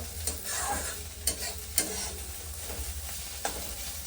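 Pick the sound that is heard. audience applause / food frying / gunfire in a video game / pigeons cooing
food frying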